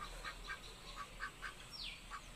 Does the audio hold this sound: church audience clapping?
no